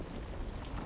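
Rain ambience in the video game Little Nightmares II, a steady, dense wash of falling rain with no distinct drops or voices over its brief length.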